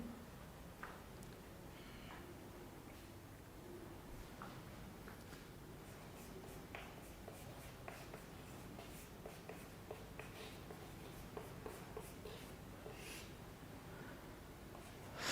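Chalk or marker scratches faintly across a board during a physics class, soft irregular strokes and taps in a quiet room.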